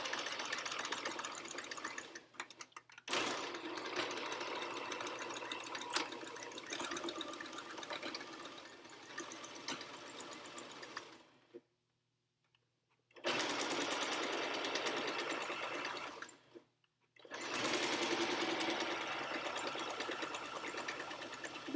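A sewing machine runs steadily while stitching the final side of a fabric pee pad, with two short pauses where the motor stops before resuming its close, continuous whir.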